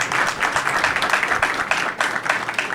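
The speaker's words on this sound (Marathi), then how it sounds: "एकदा जोरदार टाळ्या पॅनलसाठी, पुन्हा एकदा टाळ्या." Studio audience applause for a panel of Marathi guests, a loud, dense burst of many hands clapping, held steady with a brief dip near the end.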